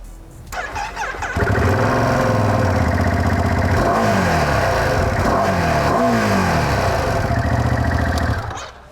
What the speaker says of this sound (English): So it's very much a Ducati sound